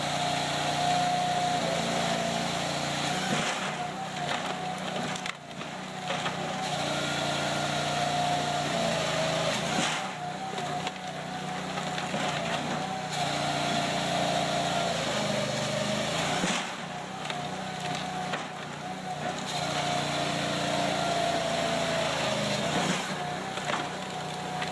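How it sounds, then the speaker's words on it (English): A Cord King firewood processor with a 50 horsepower Cat diesel engine runs steadily, and its loud mechanical drone rises and dips in load surges as the machine cycles through work. "this machine is very capable and can produce 2 full cords of firewood per hour"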